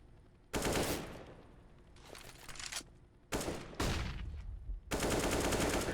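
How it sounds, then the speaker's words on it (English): Gunfire from a Counter-Strike wingman esports match comes in several loud, dense bursts separated by short gaps, with no voices over it. "And Bad does get the shot, lovely"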